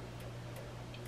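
A Cosori air fryer oven ticking as it is set to preheat: quiet, evenly spaced clicks about every third of a second over a steady low hum, with no voices.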